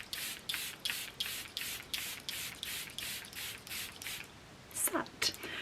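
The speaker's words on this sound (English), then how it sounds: "set with the Airbrush Flawless Setting Spray all day from Charlotte Tilbury" Charlotte Tilbury Airbrush Flawless Setting Spray is pumped onto a face over and over in a steady rhythm: a dozen short, close hissing mists, then a few quicker uneven sprays at the end.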